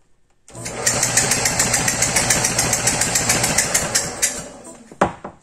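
A small gasoline engine driving a generator starts abruptly and runs with a loud, rapid, steady chugging for about four seconds, then cuts out and ends in a sharp clank.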